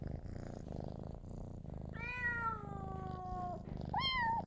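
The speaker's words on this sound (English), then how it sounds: "Just a few cat noises there so you don't get startled by this interruption." A cat gives a few drawn-out meows over a continuous close, soft purr, the last meow rising sharply, with no talking.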